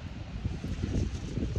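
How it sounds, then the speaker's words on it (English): Steady gusting wind in a park buffets the microphone, a low rumbling roar that stays constant and fairly loud throughout, with no other sounds standing out. "It's a little windy"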